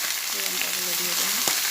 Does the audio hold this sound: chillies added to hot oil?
yes